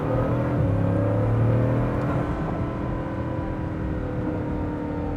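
A Bugatti Chiron Super Sport with a 1600-horsepower, 6-liter quad-turbo W16 at full throttle, heard as a steady, loud engine drone and whine from inside the car without talk.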